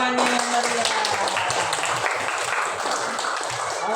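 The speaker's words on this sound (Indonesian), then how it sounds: "tepuk dulu tangannya yang meriah" A class of young primary-school pupils clap their hands together in a lively burst that fills the room, dense and continuous for several seconds with a few voices mixed in.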